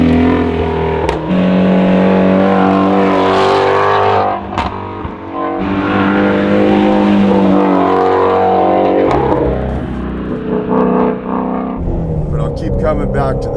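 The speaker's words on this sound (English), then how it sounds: "the tone, man, the note that you hear from this exhaust is just friggin' spectacular. Listen to that car." A carbon-fiber Shelby GT350R Mustang's exhaust roars and revs loudly up close, engine note climbing and falling with crackles, while someone talks over it.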